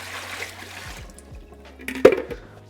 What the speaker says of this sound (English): You basically want to give these a really good rinse.